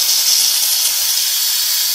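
Steam hisses out of an Instant Pot's pressure-release valve during a quick release while dog food cooks inside, a loud, steady, bright rush that holds unbroken for two seconds with no voices.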